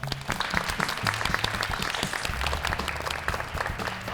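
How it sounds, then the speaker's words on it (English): Studio audience of fourth-grade schoolchildren applauding at a science show, a dense, steady burst of clapping heard on its own at close range. "So give yourselves a round of applause."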